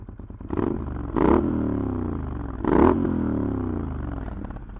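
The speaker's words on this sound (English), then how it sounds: "let's just get a little bit of an exhaust clip" A Moto Guzzi Griso motorcycle engine idles with a low rumble, blipped twice into short throaty exhaust revs that rise and fall back to idle.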